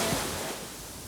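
Ocean surf at Coco Beach in Dar es Salaam, on the East African coast, makes a broad, steady wash of waves, loud and close, with some wind rumble and no voices.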